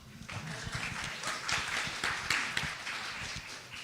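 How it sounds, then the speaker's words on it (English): A crowd claps steadily for several seconds, a dense patter of many hands at moderate distance. "huge round of applause to May, our timekeeper."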